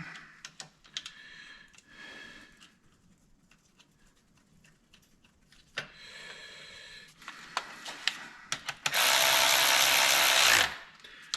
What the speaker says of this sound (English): Put this bolt back in.